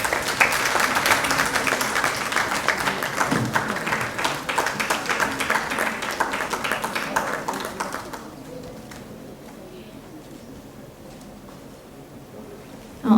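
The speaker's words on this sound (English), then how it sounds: "A huge round of applause, please." A crowd claps loudly for a felicitation at a health conference, a dense patter that holds for about eight seconds and then thins out, leaving a quiet room.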